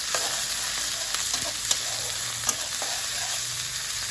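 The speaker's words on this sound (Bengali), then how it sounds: "মাছটা আমার ভাজা হয়ে গেছে" Fish fries in hot oil in a pan, giving a steady close sizzle with a few sharp pops and spatters and light stirring scrapes, with no voices.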